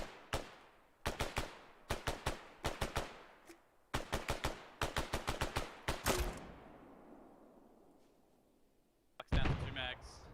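Bursts of rifle and machine-gun fire in Arma 3, sharp separated volleys of several shots each with short gaps, a louder burst near the end, and voices talking over parts of it.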